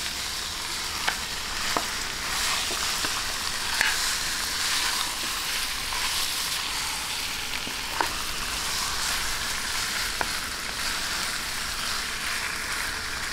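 Pork hock frying in a pan for pata hamonado, a steady close sizzle with occasional sharp pops and crackles throughout.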